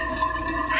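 Water poured into a pan of kangkong, a steady rushing splash that runs close and fairly loud through the whole moment, with no voices.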